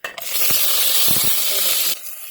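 Green chilies, curry leaves and mint frying in hot oil for veg dum biryani: a loud, continuous sizzling hiss starts abruptly, holds for about two seconds with a few soft knocks, then drops to a low simmer.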